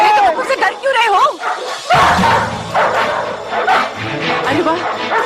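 Dogs yip and bark excitedly in short bursts, with some whimpering, mixed under a man's dubbed speech throughout, fairly close.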